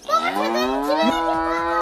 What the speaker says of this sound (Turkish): İnek var.